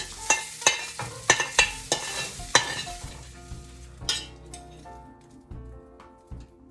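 Shrimp are dropped into a pot of seafood gumbo and stirred, giving a series of sharp clattering stir strokes over a soft bubbling sizzle, close and loud at first, then settling into quieter simmering.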